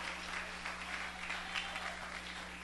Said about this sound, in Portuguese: Isso, aplaude a Jesus com bastante alegria.